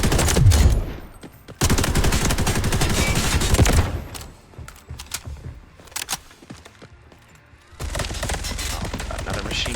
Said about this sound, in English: Oh, another machine gunner.